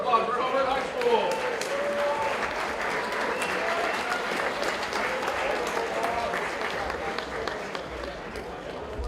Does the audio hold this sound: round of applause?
yes